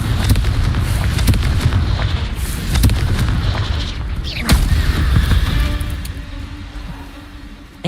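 Confringo fire spells cast in Hogwarts Legacy, a loud, dense run of booming blasts and crackling bursts with a rumbling low end, fading toward a quieter tail near the end.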